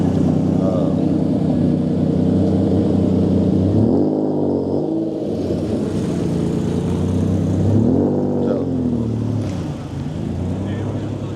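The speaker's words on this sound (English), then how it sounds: "this is a Jaguar XK120" A classic Jaguar XK120 engine revs twice at a morning car rally gathering, rising and falling in pitch beneath steady nearby talking.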